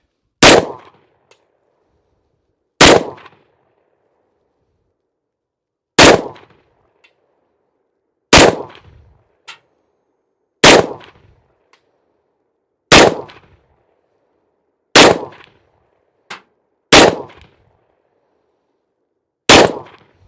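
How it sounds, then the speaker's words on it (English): Nine sharp, loud handgun shots from a Springfield XDM Elite 3.8-inch 10mm firing reloads at a target ten yards downrange, spaced roughly two seconds apart with brief decays and faint clinks between. "We'll go down and shoot at a target and check it for accuracy."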